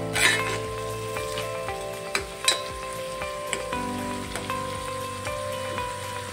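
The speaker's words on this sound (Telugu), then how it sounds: "ఇప్పుడు ఇందులోనే 1 టేబుల్ స్పూన్ సాల్ట్, కొంచెం గోల్డెన్ కలర్ వచ్చేలాగా ఫ్రై చేసుకుందాం." Drumstick curry base frying in a pan with a tablespoon of salt until golden, a steady close sizzle with occasional stirring clinks and scrapes, no talking.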